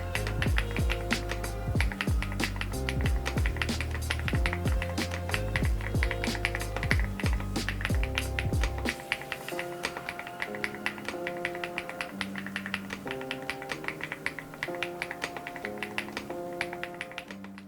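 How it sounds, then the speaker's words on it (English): Rapid clacking of a mechanical keyboard with linear cream mint switches being typed on, dense keystrokes that become lighter and sparser partway through, close up with no talking. "The Vibe 75 V2 features cream mint switches."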